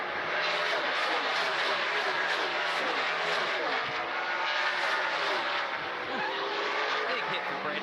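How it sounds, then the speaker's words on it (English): A NASCAR Xfinity Series race car's engine lets go entering a road-course turn during a 2024 race, heard as loud, continuous high-revving engine roar with other cars, steady and dense throughout under broadcast commentary. "You hear his engine. Yeah, his engine does blow up right there."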